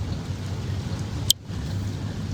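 Heavy rain pours steadily in Rosario, a dense continuous hiss of falling water broken by one sharp brief crack midway, with no voices heard over it.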